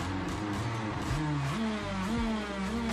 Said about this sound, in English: You're pressing on the accelerator abruptly and you're letting the engine rise and letting